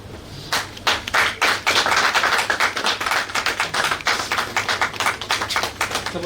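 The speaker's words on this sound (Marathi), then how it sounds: "या मूर्तीसाठी जोरदार टाळ्याने आपण स्वागत करूया" Audience at an award ceremony clapping loudly and continuously, a dense close crowd of hand claps that swells and keeps going throughout.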